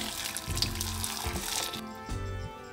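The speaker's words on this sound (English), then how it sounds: "Place them in a bowl and pour boiling water over them." Boiling water pours from a kettle into a bowl of tomatoes, making a steady splashing, gurgling stream that pauses briefly and resumes, close and fairly loud with no talking.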